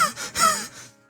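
Anxious breathing in the visual novel UsoNatsu: a few close, airy gasping breaths in quick succession, sharp and nervous, then fading out within about a second, with no speech.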